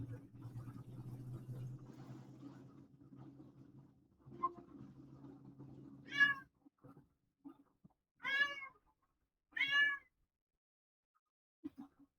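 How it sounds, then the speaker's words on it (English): A cat meows three times in short, fairly close calls, following a stretch of indoor talking and low appliance hum, with a faint extra sound near the end. "Why are you meowing?"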